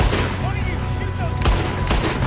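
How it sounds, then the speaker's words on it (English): Gunshots in Red Dead Redemption 2, sharp loud cracks at irregular intervals, two especially strong ones late on, over a busy outdoor game soundscape with a voice talking. "What are you shooting?"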